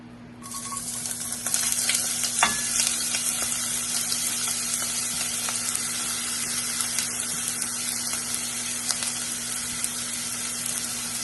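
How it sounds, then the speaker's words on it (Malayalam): Onions fry in a pan of hot oil with a loud, even sizzle that swells after a quiet start and carries on steadily, marked by a few sharp crackles. "അതൊന്ന് ചൂടാകുമ്പോൾ നമുക്കതിൻ്റെ അകത്തേക്ക് ഈ ഉള്ളി ഇടാവുന്നതാണ്."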